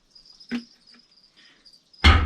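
A thin, high chirp of feeder crickets trills on and off in a quiet room where baby geckos are kept, broken by a couple of soft knocks and a louder rustle at the end.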